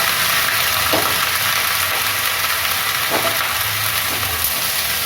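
Tomato, carrot and cauliflower with other winter vegetables frying in hot oil, a steady close sizzle and bubbling hiss throughout with a few soft stirring clatters.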